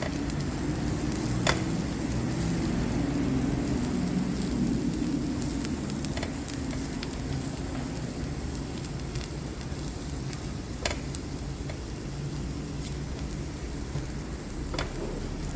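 Garlic frying in a little oil for fried rice gives a steady, dense sizzle throughout, with scattered sharp pops and crackles and no talking.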